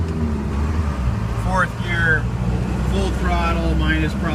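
A 4BT Cummins diesel in a 1971 Ford F250 pulls up a steep incline in third gear at part throttle, a steady low engine drone heard from the cab, with someone talking over it.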